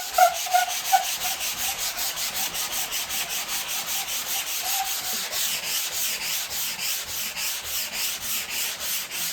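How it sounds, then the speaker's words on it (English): A sanding sponge rubbed back and forth over high spots on a rebuilt wall, a steady rhythmic scratchy swish repeating for several seconds, close and alone with no talking. "Taking off the really high spots, and then I come around with my sanding sponge."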